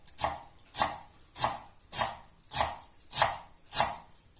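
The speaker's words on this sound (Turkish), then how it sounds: "Bir dəstə cəfəri, yarım dəstə şüyüd də xırda-xırda doğrayıb qiymənin üzərinə əlavə edəcəm" A knife chops fresh parsley and dill on a cutting board in slow, evenly spaced strokes, about seven crisp chops heard up close with quiet pauses between them.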